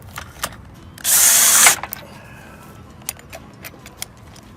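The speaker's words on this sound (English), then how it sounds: "Then we get our new stainless steel pegs and drill them in." A cordless drill whirs in one short, loud burst lasting under a second as it drives a stainless steel screw-in awning peg into the ground, followed by a few light clicks and knocks.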